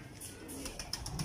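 Pigeons kept by a breeder coo softly in their loft, low throaty calls repeating under faint background noise, with a few brief higher chirps.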